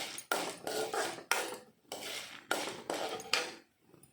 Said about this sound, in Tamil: இதை வடிகட்டிக்கலாம் தனியாக.